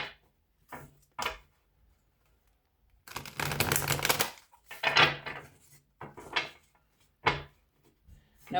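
Tarot cards are shuffled in several quick riffling bursts, with a longer flutter in the middle and short snaps before and after, close and crisp in a quiet room.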